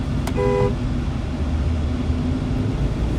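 Road traffic heard from inside a moving car: a steady, loud engine and road rumble fills the clip while a short car horn toots once near the start.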